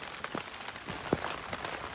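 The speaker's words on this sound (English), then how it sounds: "Camping in the rain, Jordan. Classic." Rain at a campsite pattering steadily on surfaces, with scattered louder drops striking nearby throughout.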